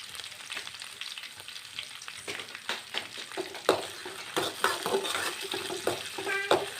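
Sliced onion frying in a pan with green chillies and curry leaves for pepper chicken, a steady close sizzle with scattered clinks and scrapes of a stirring spoon growing busier toward the end.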